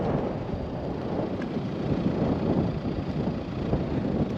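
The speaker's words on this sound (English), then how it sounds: "it is windy up here" Wind blows steadily across the slopes of Mount Finke, about a quarter of the way up the 361-metre peak on the Googs Track: a continuous, fairly loud rushing buffet with no pauses and no voices.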